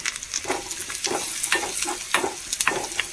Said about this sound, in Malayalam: അതിലേക്ക് ഉള്ളിമുളക് തന്നെ മൂപ്പിച്ച് ഒരു പകുതി സവോള എനിക്ക് ഇട്ട് കൊടുത്തിട്ടുണ്ട്